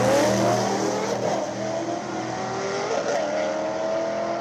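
Street racer class cars at a drag racing event, engines roaring and revving loudly and continuously, with tonal whine shifting as they accelerate, steady and close throughout.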